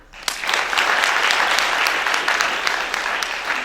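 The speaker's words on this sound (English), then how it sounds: "One more round of applause if you don't mind." An audience applauds flyer finalists at an event, a dense burst of clapping starting abruptly and holding steady and loud throughout, with a faint voice or two mixed in.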